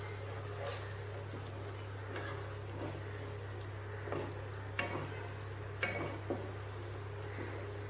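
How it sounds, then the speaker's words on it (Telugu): Spice powders, including a spoon of coriander powder, are stirred into a sizzling pan for egg bhurji curry, with soft scraping strokes and occasional sharper utensil clicks over a low steady hum. "మొత్తం 3 వేసుకొని మిక్స్ చేసుకోవాలి"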